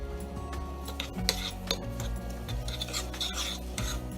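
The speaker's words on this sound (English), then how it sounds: "I'm going to give this a little bit of a stir." Spoon stirring melted shortening and butter in a pot or bowl, a steady scraping and clinking of utensil against the dish over a low background hum, with no talk.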